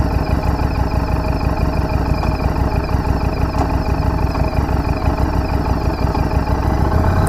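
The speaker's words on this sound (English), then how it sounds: "listen to the sound engine here" A 2017 Harley-Davidson Street 500 motorcycle engine idles steadily nearby, giving a continuous low rumble with faint clatter and no talking.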